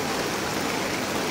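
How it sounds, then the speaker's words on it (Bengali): Heavy monsoon rain pours down in Thanchi, Bandarban, a steady dense hiss with no breaks or voices. "বৃষ্টি হচ্ছে, কতটুকু কীভাবে কি হয় জানি না"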